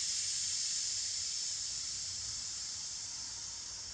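Air hisses steadily into a motorcycle inner tube for a rear tire on a Kawasaki KLX140L, a continuous close hiss that stays even throughout.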